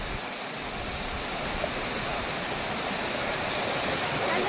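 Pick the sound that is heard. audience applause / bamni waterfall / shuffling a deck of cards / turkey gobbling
bamni waterfall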